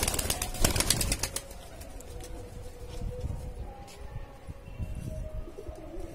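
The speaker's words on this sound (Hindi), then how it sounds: "यहाँ पे सारा कबूतर उड़ जाता है" Pigeons coo softly amid outdoor ambience, with a few bursts of wing flapping near the start.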